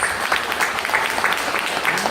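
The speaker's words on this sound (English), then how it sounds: "Let's just give them all those guys a round of applause." A roomful of guests at a graduation party claps in dense, continuous applause, close and fairly loud throughout the short burst.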